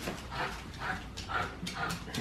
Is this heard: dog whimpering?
yes